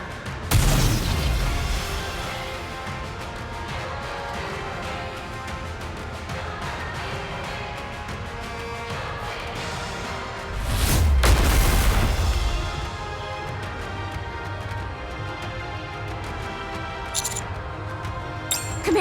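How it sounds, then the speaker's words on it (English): Gunfire and explosions ring out in Nikke: Goddess of Victory as an enemy opens fire, with a sharp burst early, a dense rattle of shots, and a heavy booming blast near the middle, all loud and without talk. "She's opening fire!"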